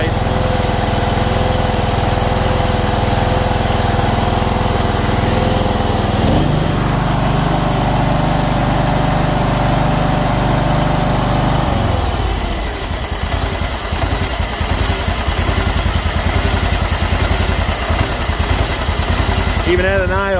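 A Kawasaki engine on a John Deere mower drones steadily at idle, a loud close rumble that shifts midway into a rougher, more sputtering tone.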